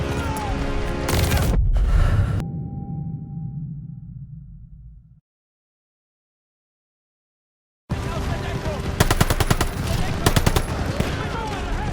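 Machine-gun and rifle fire crackle in a Call of Duty Vanguard Omaha beach battle, loud bursts with booms, then a lull fading to silence before intense automatic gunfire returns; shouted voices mixed in.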